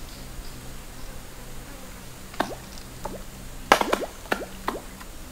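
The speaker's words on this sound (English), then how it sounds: "I love the sound of the picabean palm, little berries dropping down from the sky and plopping into the water." Small piccabeen palm berries dropping from above and plopping into creek water on Fraser Island, heard as a scatter of soft, distinct plops and drips, a handful spaced irregularly over a quiet outdoor background.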